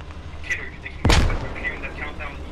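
A single loud grenade explosion in the video game Squad, a sharp boom with a rumbling tail, set among faint radio chatter and distant battle noise.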